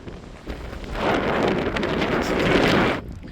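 Strong wind on a clifftop at Sagres, Portugal buffets the microphone in a roaring gust that builds after a moment, holds for a couple of seconds, then drops away.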